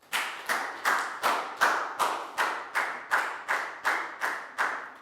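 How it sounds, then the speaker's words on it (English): Rhythmic classroom clapping, a dozen or so even claps in steady tempo, close and clear with no voices. "A big round of applause for everybody for doing a great job."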